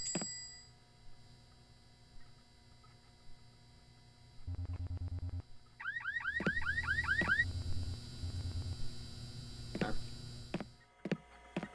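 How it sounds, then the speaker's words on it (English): A car alarm inside a video game sounds loud and electronic, with repeating chirps and tonal whoops that change pattern over several seconds under a steady hum. "it triggers the alarm on my car"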